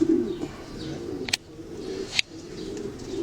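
Pigeons cooing in a racing pigeon loft, a steady low murmur of coos throughout with two sharp brief clicks or knocks standing out; no talking.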